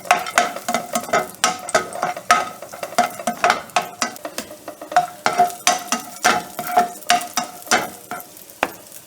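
Cashews and raisins frying in a pan for Kannur-style unnakaaya, a soft constant sizzle broken by repeated scraping strokes of a spoon stirring at a quick, even rhythm, close and alone without talk.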